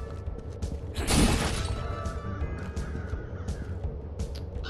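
A crow caws in a graveyard level of the video game Pumpkin Jack, with a sharp crash around the one-second mark and a low game soundtrack underneath.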